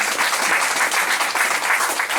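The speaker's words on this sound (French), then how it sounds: "On acclame le Seigneur." A church congregation applauds together to acclaim the Lord, producing dense, continuous, loud clapping that fills the whole moment without a break.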